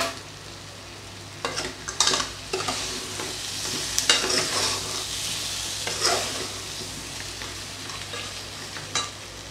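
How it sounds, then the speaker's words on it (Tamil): Curry masala and tomatoes sauté in hot oil, giving a steady crackling sizzle broken by intermittent scraping stirs of a spatula against the pan, close up, with no one talking. "இது எல்லாத்தையும் எண்ணெயில் வந்து வதக்கிடலாம்."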